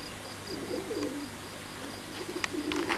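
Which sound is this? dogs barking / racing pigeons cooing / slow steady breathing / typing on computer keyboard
racing pigeons cooing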